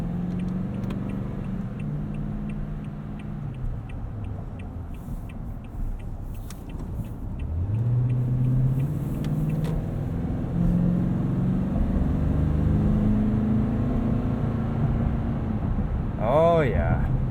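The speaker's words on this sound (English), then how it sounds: "This V8 does sound really nice." A 2019 Toyota Tundra 4x4 SR5 Double Cab V8 engine hums steadily while driving, a low continuous drone that rises in pitch as it accelerates, with a brief squeal near the end.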